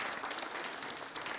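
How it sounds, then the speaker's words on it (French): Dense, steady applause from a TV studio audience, a broad unbroken wash of many hands clapping at moderate level with no talk over it. "Je vais vous demander bien plus d'applaudissements au public."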